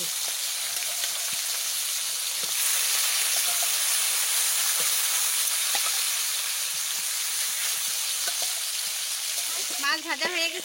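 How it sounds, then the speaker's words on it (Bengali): Fish fries in hot oil with a loud, continuous sizzle and hiss that holds steady throughout, and a short stretch of voice comes in near the end. "মাছ ভাজা হয়ে গেছে, তুলে নিচ্ছি"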